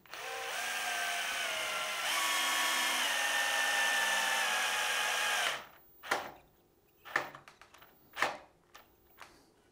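A power drill drives a screw into pre-drilled, countersunk wood, a whining motor buzz that steps up in pitch partway through and then stops, followed by several short knocks and clicks of handling close by.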